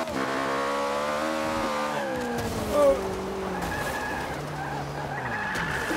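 Ariel Atom driven around the long Nurburgring track in Forza 5, engine note droning steadily with shifting revs and a brief tire squeal as the car drifts, no talking.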